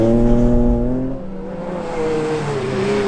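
Rally cars at Aghadowey, among them a BMW Compact and an MX-5: loud, close engine roar holding high revs, then dipping and rising again as a car drives past.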